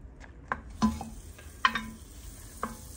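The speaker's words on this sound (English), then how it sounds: "Okay, so you're gonna stir that around." Butter melting in a pan at about 350 degrees, a soft sizzle with a few distinct clicks and scrapes of a utensil stirring, close and fairly quiet.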